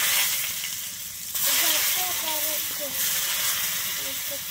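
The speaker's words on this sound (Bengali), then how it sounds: "তেলের মধ্যে আমি বেগুনটা ভেজে নিচ্ছি।" Eggplant coated in salt and turmeric frying in hot oil, a steady loud sizzle and hiss that surges partway through, with no talk.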